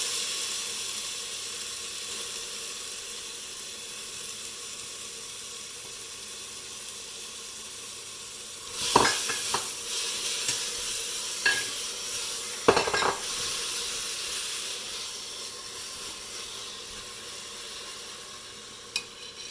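Onions frying in a pot over medium-high heat after garlic for Punjabi chole, a steady close sizzle with a loud burst as they go in, followed by stirring clatter against the pot.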